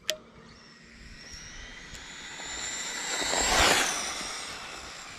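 A Losi Mini B 2.0 RC drag car built as a Chevelle launches from a dead stop at full throttle, its high electric whine building to a loud peak and then easing off.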